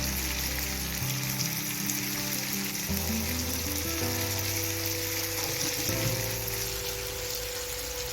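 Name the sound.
tomatoes frying in oil with salt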